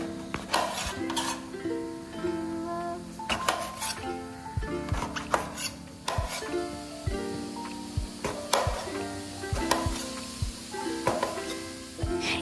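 Mustard seeds tempering in one tablespoon of coconut oil for a brinjal stir-fry: steady close sizzling with sharp popping crackles scattered throughout, under a faint music bed.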